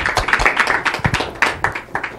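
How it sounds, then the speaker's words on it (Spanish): A studio audience claps to close a Spanish-language talk show, scattered uneven hand claps rather than full applause, short and fairly close. "Ayúdenme a despedir el programa, por favor, con un aplauso."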